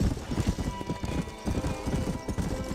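Galloping horse hooves clip-clop in a fast, steady rhythm across dirt in the Red Dead Redemption western game, close and loud, with a brief whinny and a bed of ambient game music underneath.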